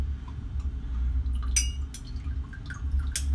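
Hot sorrel punch poured over ice in a glass, giving soft trickling drips and a few sharp glassy clinks against a quiet room hum.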